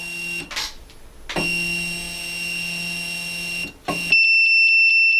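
A UV printer's steady electronic tone hums, cuts out, then its height sensor gives a rapid series of sharp, high warning beeps close by in an even rhythm.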